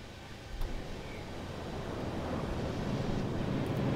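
Calm sea waves in the submarine video game U-Boat wash in a soft, steady rushing swell with wind-like noise that gradually grows a little louder, with no voices.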